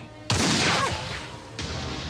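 A gunshot fired at a water bottle in a scene from the Telugu film Pokiri cracks out suddenly and loudly, with a ringing tail. A second sharp burst follows about a second later.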